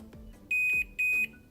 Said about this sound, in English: So what we're looking for is just a beep, and we connect the 2 leads.